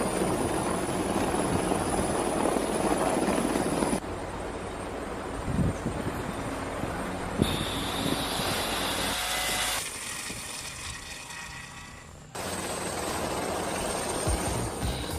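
A helicopter flies overhead with a loud, continuous rotor chop and engine roar that changes abruptly several times across the stretch, with no voices.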